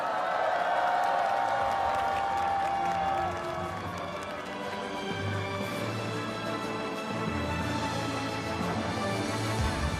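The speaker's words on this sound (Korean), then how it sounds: "큰 박수와 함성을 보내주시기 바랍니다" A crowd at a centennial March 1st commemoration applauds and cheers for the Black Eagles aerobatic team flyover, a steady distant wash of clapping and shouts lasting several seconds.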